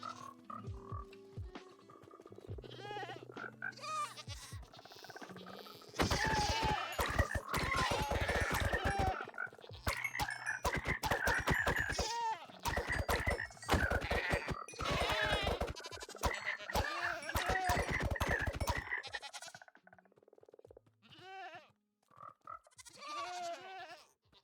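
In Minecraft, goats bleat and ram frogs: dense overlapping game animal calls with sharp clattering thuds, nearly continuous in the middle and thinning out toward the end.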